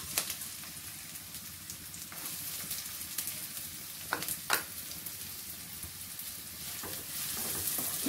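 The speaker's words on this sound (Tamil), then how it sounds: "எண்ணெய் சூடாயிடுச்சு, நம்ம வந்து வெங்காயத்தை தாளிச்சுக்கலாம்." Close, steady sizzle of onions frying in hot oil, with occasional sharp pops and crackles and a few stirring scrapes, no voices.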